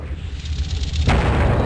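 A time bomb in the Heretic video game goes off with a loud, close explosion, a sudden broadband blast that rumbles on over sustained low-end background noise.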